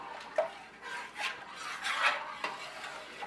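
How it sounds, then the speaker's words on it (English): Peach pie filling is stirred in a pot with a utensil, giving soft repeated scraping swirls and light thick bubbling at a moderate, close level, with no talk. "we want to stir until it starts to thicken and bubble"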